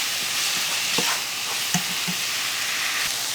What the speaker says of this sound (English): we're just going to cook this until your meat is nice and brown